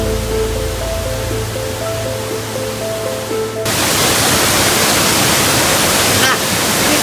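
A waterfall in Jatiluwih, Bali roars nearby. It starts as a softer rush with some faint tones, then swells into a loud, dense, constant cascade.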